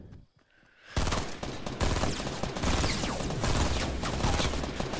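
Sustained gunfire in the Fortnite video game: after a brief quiet start, dense rapid shots erupt and continue without a break, loud and close, with no talking.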